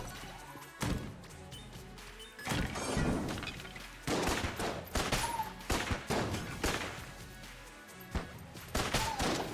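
Rapid bursts of video-game gunfire ring out while enemies are shot in Enter the Gungeon, loud repeated volleys and blasts stacked in quick clusters with brief gaps between salvos, dense and close.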